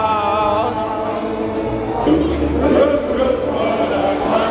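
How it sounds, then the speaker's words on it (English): Crowd noise at a Cubs baseball game in Chicago, a dense murmur of many voices swelling midway, mixed with someone singing and talking up close over the stadium chatter. "What a crowd."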